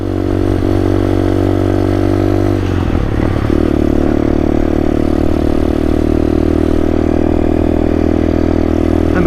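An old vintage motorcycle engine runs loud and close on a test ride, a steady throbbing drone with a brief clattering rise in revs midway, then settling back to an even hum.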